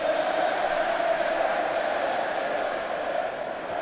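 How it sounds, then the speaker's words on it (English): Football crowd at a Preston versus Liverpool FA Cup third-round match, a steady, broad roar of voices filling the stadium without pause, loud and sustained. "You just sense the crowd have got a little bit of hope in their voices at the moment"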